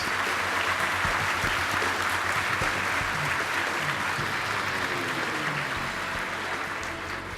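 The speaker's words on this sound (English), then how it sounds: "I think we can give one more round of applause for all the students and instructors." A crowd at an awards banquet applauds steadily and loudly, a dense wash of clapping that holds from start to finish without voices standing out.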